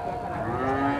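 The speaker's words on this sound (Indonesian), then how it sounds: "Ini sapi simental." A Simmental cow lows at a livestock market in Glenmore, one sustained deep moo, loud and close, lasting about a second.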